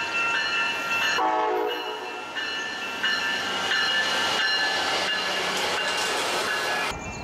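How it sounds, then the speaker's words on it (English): Southbound Amtrak Surfliner passenger train arriving on the Union Pacific coast route at night, a loud, steady rumble and hiss of rolling cars with brief horn tones, continuous and close throughout. "we are getting treated to the arrival of the southbound Amtrak Surfliner, getting close to home and heading towards Los Angeles LAUPT"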